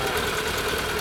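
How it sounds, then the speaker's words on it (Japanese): A Kawasaki Zephyr 750 Final Edition motorcycle engine runs steadily at idle with a dense, even mechanical drone, close and continuous for the brief moment. "エンジンの調子良さそう。"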